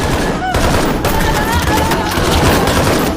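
Gunfire in a crime film as a woman shoots dead the man about to attack her, a rapid dense burst of shots sustained under an ongoing dramatic soundtrack.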